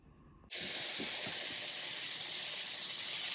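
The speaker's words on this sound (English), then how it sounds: "here's my meat searing" Pork loin dropped into a hot pan with half a tablespoon of olive oil, bursting into a loud, steady searing hiss after a brief quiet start, with a few soft thumps early on.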